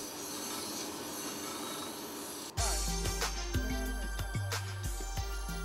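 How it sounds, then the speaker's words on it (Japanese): Grinder shaping the head of a pair of tweezers, starting abruptly after a quieter stretch with a loud steady whir and shifting metallic tones as the workpiece is pressed against the wheel. "頭の中心線をグラインダーに垂直に押し当てて削っていかなければきれいに仕上がりません"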